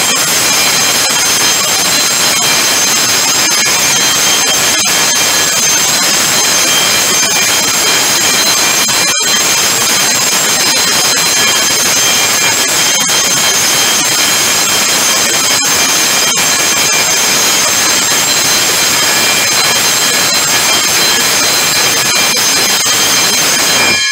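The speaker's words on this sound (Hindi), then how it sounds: "जैसे ये पंप चलता है तो ये बेल किस तरह ये बजती है ये आप देखेंगे" A fire-fighting pump starting and running in a pump room gives off a loud, steady mechanical roar with a sustained tonal whine and an occasional sharp click.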